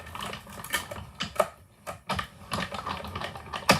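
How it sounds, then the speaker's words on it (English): A die cut machine presses a glitter sheet, giving off irregular close clicks and mechanical clacks with short pauses between them. "And then we're just going to send this through the die cut machine."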